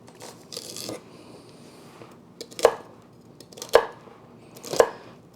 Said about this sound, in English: I'm going to cut them up in kind of bite-sized pieces